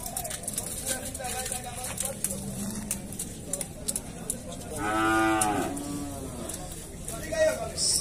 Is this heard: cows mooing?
yes